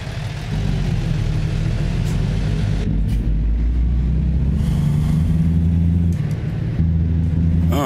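Truck engine hauling a tiny house, a steady low rumbling drone with shifts in pitch as it downshifts, continuous and close.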